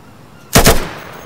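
Two quick gunshots crack in rapid succession in the tactical shooter game Insurgency, loud and close, followed by a short fading echo.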